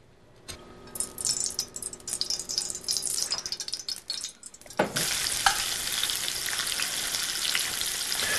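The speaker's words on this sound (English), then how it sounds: "Now the key here is to just sear the outer surface of the tuna and the peppercorns." Peppercorn-crusted tuna searing in a pan: light crackling spits come first, then a sudden loud, dense sizzle once the fish goes in, holding strong and close to the end.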